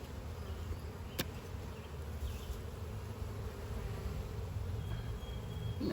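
Honey bees swarm over an open hive frame of uncapped nectar, a dense steady buzzing that fills the air close by, with no one talking.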